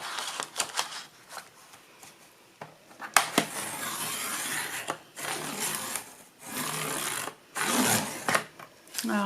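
A We R Makers rotary paper trimmer slicing paper with a perforating blade, giving several short scraping, rasping passes of varying length, close and fairly loud, separated by brief pauses and small handling noises.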